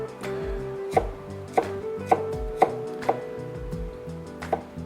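A knife chops radish into large chunks on a cutting board. About seven crisp, evenly spaced thuds sound close by in a quiet kitchen, and no voices are heard.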